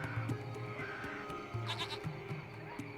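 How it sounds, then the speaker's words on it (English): A small goat hiding under a hut bleats repeatedly, short wavering cries coming in a loose rhythm, fairly close and clear over a faint background hum. "It's a small goat."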